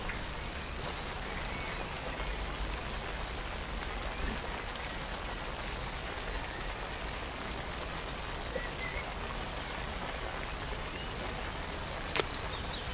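Light rain falls steadily on an outdoor disc golf course, a soft, even patter of drops spread across the scene, with faint bird calls and one brief knock near the end.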